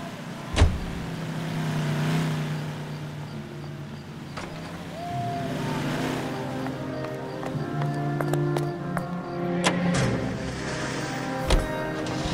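A car driven in L.A. Noire runs with a low, steady engine rumble, with occasional clunks and a few sharp knocks, heard close and continuous throughout.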